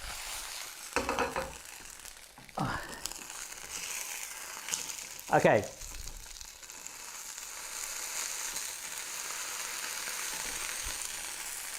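A burger frying in a pan gives a faint, steady sizzle throughout, with a few louder scraping and rustling bursts near the cooking as utensils move; a voice speaks briefly.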